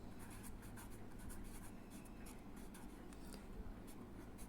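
Pen scratching on paper while noting a measurement for tailoring a blouse: continuous light, scratchy strokes, quiet and close, with no talking.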